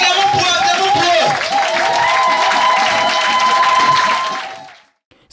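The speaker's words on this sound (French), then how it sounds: "Acclamons pour eux, acclamons pour eux." A church congregation at a sermon applauds and cheers in a dense, steady wash of clapping with a sustained voice ringing above it, then the noise fades away near the end.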